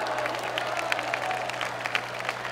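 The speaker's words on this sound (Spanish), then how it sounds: "¿Cuánto le dan un aplauso a la palabra?" A church congregation claps and applauds throughout, a steady, moderately loud wash of many hands with faint cheering mixed in and no speech on top.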